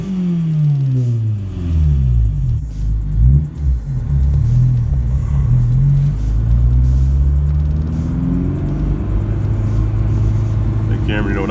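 A Honda S2000 with its mufflers cut off and tips fitted revs loudly and steadily up close, its raspy exhaust note rising and falling with a brief dip partway through.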